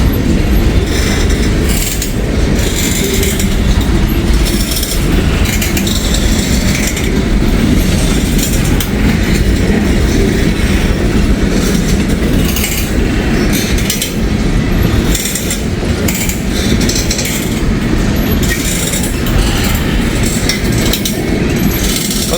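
A heavy freight train of empty covered steel coil cars, pulled by two locomotives in Wyoming, rolls past loud and continuous, its rumble laced with metallic creaking and ratcheting clanks.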